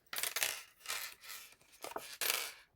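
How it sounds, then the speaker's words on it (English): Scissors or a blade cutting through stamped card along a line for a cake-themed craft, heard as several close, crisp rasping snips separated by short pauses, with no talking. "I'm simply going to cut along this line."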